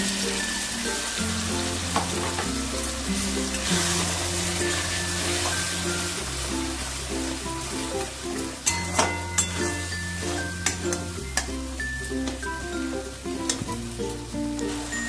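Cashew and melon seed paste sizzles and fries steadily in a pan on the stove, with a few metallic clinks of a utensil against the pan.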